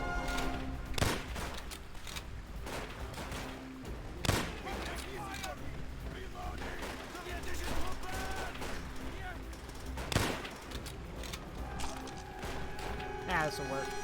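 An MP40 submachine gun in Call of Duty: World at War, firing in scattered sharp cracks and short bursts amid busy battlefield noise, moderately loud with mechanical clatter and a voice talking over it.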